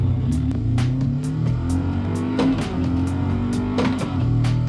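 A Mazda Miata engine in a racing video game revs and climbs through several quick manual gear shifts with no delay between gears, each upshift marked by a short break in the drone, loud and steady throughout.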